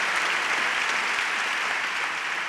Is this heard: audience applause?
yes